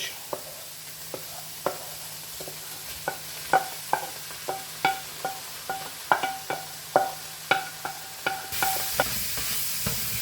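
Chopped vegetables sizzle in a hot pan of chilli con carne while a spoon stirs them, giving a regular series of scraping, clacking strokes over continuous frying hiss, close and clear with no talk.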